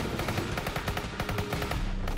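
Enemies fire machine guns in DmC: Devil May Cry, a steady rapid burst of close, loud gunshots that runs the whole length with no speech.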